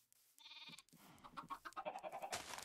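Sheep bleating on a video game farm: a few quick, nasal bleats, close and fairly loud, come one after another, with short pauses between them.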